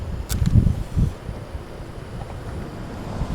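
Wind buffets a microphone outdoors beside a propane camp stove being lit, heavy low rumbling gusts early on that settle into a steadier, softer blowing hiss.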